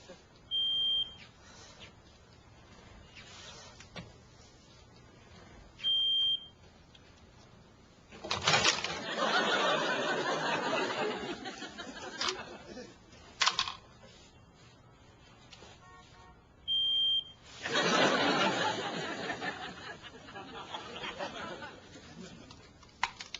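A high electronic smoke alarm chirp repeats about every five seconds even after being disconnected with its battery removed, with bursts of louder rustling and a voice talking in between.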